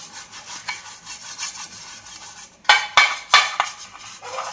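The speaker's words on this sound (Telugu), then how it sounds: "ఒక కేక్ బౌల్ తీసుకున్నా, ఈ బౌల్కు మొత్తం నూనె అప్లై చేస్తున్నా" Oil being rubbed around the inside of a cake bowl: soft, steady rhythmic swishing strokes, followed by a few louder scraping passes against the bowl, with no talking.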